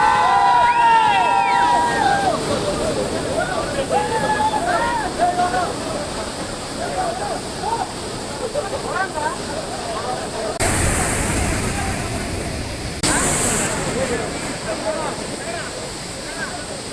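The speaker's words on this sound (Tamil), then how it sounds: "பெரிய அருவி ஃபால்ஸ் இங்கிருந்து அப்படியே ரிவரும் வேற லெவலில் இருக்கு" A large waterfall and river roar steadily with broadband rushing water throughout, and a voice speaks over it at the start.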